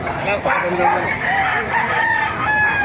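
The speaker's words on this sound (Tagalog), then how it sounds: "Ganda ng mga manok dito sa Baliwag" Roosters crow near and in the background at a busy chicken market in Bocaue, Bulacan, drawn-out calls overlapping with clucking fowl and faint crowd chatter.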